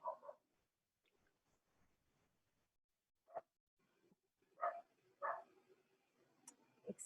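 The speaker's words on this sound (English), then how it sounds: "Excuse the dog barking, it's our neighbor's dog." A neighbor's dog barks in short separate bursts, several sharp barks spread across the stretch, faint and somewhat distant against an otherwise quiet background.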